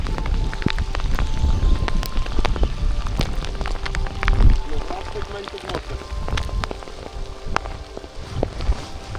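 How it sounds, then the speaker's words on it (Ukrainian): Rain mixed with hail pelts down steadily during pike fishing on a pond, a dense, close patter of sharp ticks and hits with wind noise over the microphone. "Дощ з градом, це капець."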